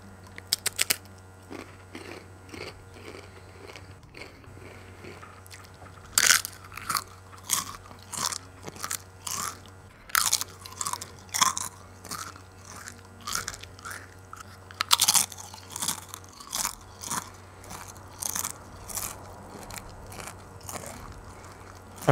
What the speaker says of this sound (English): Sorry, I'm chewing a little bit.